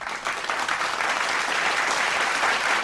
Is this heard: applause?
yes